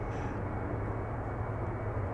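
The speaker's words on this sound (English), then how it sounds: "Finnair on the roll, headed back to Finland with flight 1366." A Finnair airliner on its takeoff roll at Manchester Airport, a faint, steady jet engine roar heard from a distance without voices.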